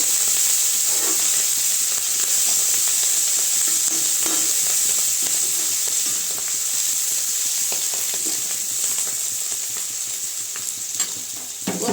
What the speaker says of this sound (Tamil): கொஞ்சம் கருவேப்பிலை இது வந்து நல்லா வதங்கணும்னு ஒரு ரெண்டு நிமிஷம் வதங்கட்டும்